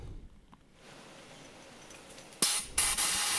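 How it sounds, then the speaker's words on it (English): Compressed air blown under a motorcycle hand grip on a Honda CB500X: two sharp loud hissing blasts close by in the last second after a quiet lead-in. "I will use compressed air to remove the hand grip."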